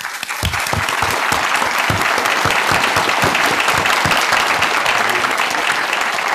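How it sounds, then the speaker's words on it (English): Loud, dense applause from a large conference audience welcoming a speaker to the stage, continuous close clapping sustained at full level with no voices over it. "Let's give a warm round of applause to welcome our most honorable Supreme Master"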